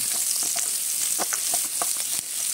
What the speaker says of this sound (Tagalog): At ngayon magigisa tayo ng bawang.